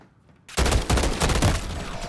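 Rapid bursts of automatic gunfire in Call of Duty: Modern Warfare III, erupting loudly after a brief quiet moment and rattling on continuously, close and dense.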